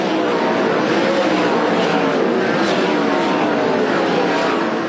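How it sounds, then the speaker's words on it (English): Sprint cars roar around a dirt track in a championship race near the white flag, a loud, dense engine drone that holds steady under an announcer's commentary. "Paul McMahon brings it off of turn 4 to the white flag"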